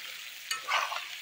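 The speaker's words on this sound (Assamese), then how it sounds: "ধুনীয়াকৈ মাংসখিনি ভাজি আছোঁ" Pork pieces sizzle in a hot pan for a pork and elephant apple curry, a steady close hiss with a brief clatter and a swell of louder frying as they are stirred.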